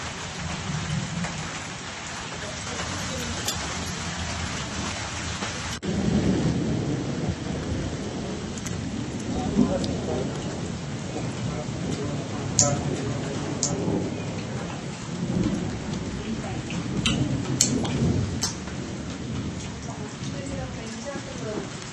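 Heavy wind-driven rain pours steadily in Chikkamagaluru, with rumbling thunder and a sharp crack rising partway through, the downpour loud and continuous throughout.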